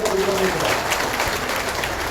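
An audience at an AIUDF political gathering claps in a sustained burst of applause that fades slightly toward the end, with a voice briefly heard under the clapping.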